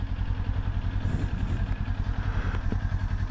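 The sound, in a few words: Kawasaki motorcycle engine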